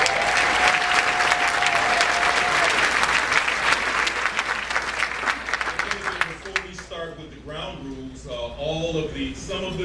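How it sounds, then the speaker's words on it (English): Crowd applause at a Democratic gubernatorial forum in Matteson, Illinois, loud and sustained for about six seconds, then thinning into scattered claps as a voice begins speaking over it. "Give yourself a round of applause"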